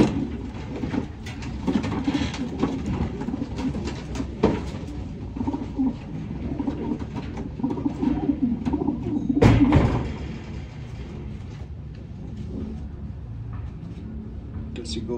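Racing pigeons coo softly in a loft, their low murmuring calls running throughout beneath someone talking close by, with occasional rustling and a brief louder clatter midway.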